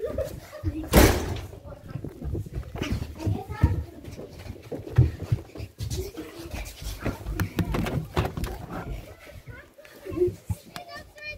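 A door is opened in a house with children around, giving one sharp knock or clunk early on amid busy chatter, shuffling and rustling, while children and adults talk throughout.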